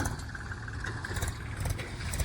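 A tractor spreads farmyard manure across a potato field. Its engine gives a low, steady rumble that stays fairly quiet and fairly even throughout.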